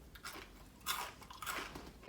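Crunchy chewing up close on oat cereal clusters, a few loud crackling bites in quick succession with no talking.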